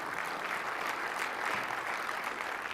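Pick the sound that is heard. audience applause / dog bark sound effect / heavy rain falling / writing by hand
audience applause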